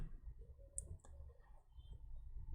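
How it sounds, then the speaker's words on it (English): An electric kettle clicks off once it is ready: a single short click stands out briefly over a low background hum and rumble, with no talking. "That's the sound of the kettle being ready."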